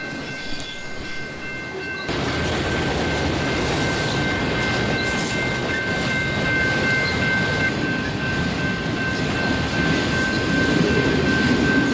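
A BNSF freight train rolls past at a crossing around Oklahoma City, its loud, steady rumble and wheel clatter arriving after two seconds and holding strong throughout, with a faint horn tone riding over the din.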